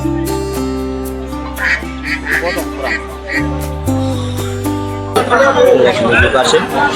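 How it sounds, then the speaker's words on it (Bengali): Domestic ducks at a village market in Nakla, Sherpur quack repeatedly nearby, their calls rising over a steady murmur of market chatter and voices. "ওই পাশে এক ভাই দেশি হাঁস নিয়ে আসছে"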